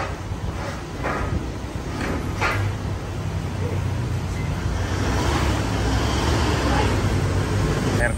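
A 2023 Toyota Lite Ace engine turns over and settles into a steady, rumbling idle, close and fairly loud, with a broad hum that holds for several seconds.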